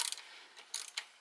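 A ratchet loosening a bolt on a GM C1500 truck, a few faint, quick clicking bursts of the mechanism heard alone.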